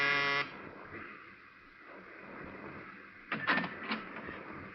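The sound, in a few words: apartment door buzzer being pushed, radio drama effect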